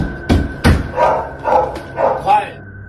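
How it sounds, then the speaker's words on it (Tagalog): A dog barks about five times in close, loud bursts, first two sharp barks and then three more evenly spaced, near a well in a ghost-story setting. "maririnig ang asong patahol-tahol na tila ba takot sa balon"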